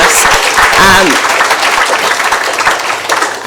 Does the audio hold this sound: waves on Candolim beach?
no